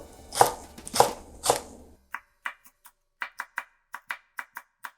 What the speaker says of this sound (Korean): 얼큰한 걸 좋아하시면 두 개만 딱 썰어 넣으세요.